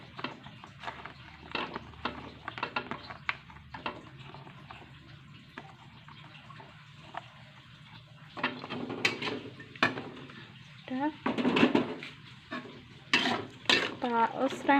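Carrots and mixed vegetables for capcay are stir-fried in a pan, with a steady sizzle and repeated scraping and clatter of the spatula that grow busier toward the end.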